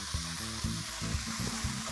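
Cabbage and capsicum stir-frying in a pan, a steady sizzle with rhythmic scraping strokes of a spatula, close and continuous.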